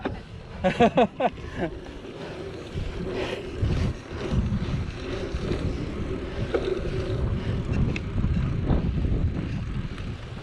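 Wind buffets the microphone in a steady low roar that fills the whole stretch, after a brief burst of voices at the start.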